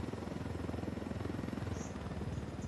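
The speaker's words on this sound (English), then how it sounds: "Man, I would love to keep this chopper." A video game helicopter keeps up a rapid, even rotor chop over a low engine hum, nearby and constant throughout, with no voices.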